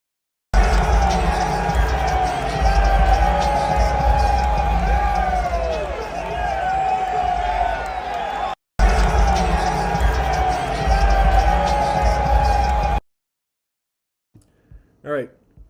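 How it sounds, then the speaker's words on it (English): Crowd noise at a political rally for Pierre, with one or two people cheering and whooping above a dense murmur of voices and talk, steady for about twelve seconds, then near silence with a few short sounds. "We heard one or two cheers."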